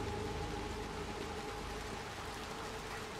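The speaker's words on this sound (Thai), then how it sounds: "ตอนนี้ฝนตกหนักมากเลยนะครับ" Heavy rain pours steadily in the video game Little Nightmares II, a dense, even hiss that fills the whole stretch without letting up and holds the same level throughout, with no voices over it.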